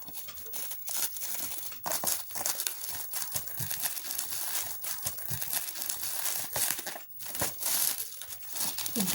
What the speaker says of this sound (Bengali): এখন পার্সেলটা আনপ্যাক করবো।